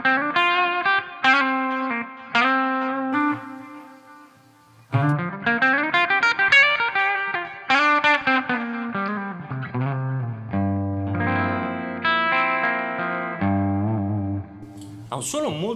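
Gibson 335 electric guitar with Burstbucker pickup played through a Volta 1987 drive pedal, clear overdriven rock chords and single-note phrases played alone, bright and sustained with pauses between phrases.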